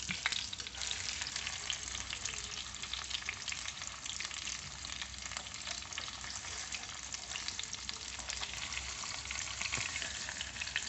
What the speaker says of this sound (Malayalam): ഒത്തിരി അങ്ങോട്ട് ഫ്രൈ ആകണ്ട ഒന്ന് വെന്ത് കിട്ടിയാൽ മതി